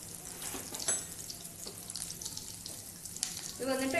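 Egg kebabs frying in oil over a medium flame, a steady soft sizzle with faint watery crackle running throughout, with a few light clinks and stirring scrapes near the end.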